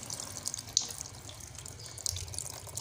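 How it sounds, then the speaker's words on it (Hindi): Water being squeezed out of mixed vegetables pressed hard in a cloth sack for spring rolls, a trickling, dripping stream of liquid with a couple of brief splashes, close and alone without talk. "इस तरह करके ज़ोर के साथ दबाएंगे हम वेजिटेबल को और पानी हमने इसका मुकम्मल तौर पर निकाल लेना है"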